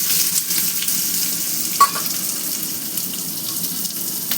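Big chunks of chopped onion frying in hot oil make a continuous crackling sizzle with one sharp clink partway through, near and even in level, with no talking.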